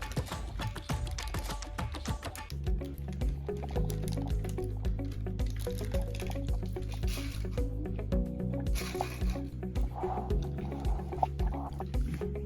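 Kurma gravy is poured over parotta, giving soft, wet liquid drips and squishy splashes in a quiet, close setting, with several small pours and plops over about twelve seconds.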